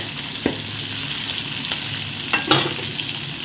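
Onions fry in hot oil in a pot for a Tamil curry, giving a steady, close sizzling hiss with a few faint clinks and stirring taps.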